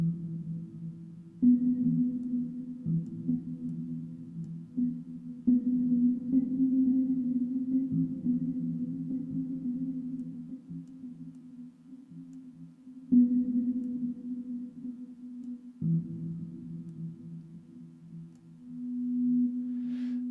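A sustained, low synth pad from the AtmosPad Kontakt instrument drones steadily, its tones shifting every few seconds with soft echoing delay repeats trailing behind; no voices.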